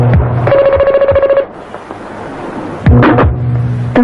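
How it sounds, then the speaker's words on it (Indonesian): An old-fashioned telephone bell rings in loud, rapid trilling bursts indoors in a vintage Indonesian film, one long ring followed by a pause and then another ring starting, with no talk over it. "Ada telepon, Sal!"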